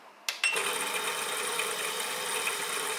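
A homemade Lego motor on 120 volts switches on with a couple of sharp clicks and then runs at a high, steady electric whine, loud and close, with no talk.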